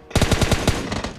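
Machine gun fire in the video game PUBG Mobile, a quick burst of about eight sharp, close shots in rapid rhythm with brief gaps, loud and with no talking.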